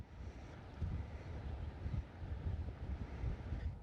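Wind gusting across an open golf course, buffeting the microphone with a low, steady rumble that swells and eases in waves, with no talk.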